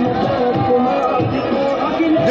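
A large crowd at an Akhilesh Yadav election rally in Gorakhpur, a dense, steady murmur of many voices close by that swells slightly toward the end.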